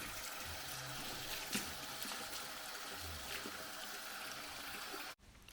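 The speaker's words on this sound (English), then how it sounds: "I'll go ahead and flush all the foam away." Water rinsing shampoo foam out of natural 4C hair, a steady hissing stream with soft splashes and occasional knocks, cutting off abruptly near the end.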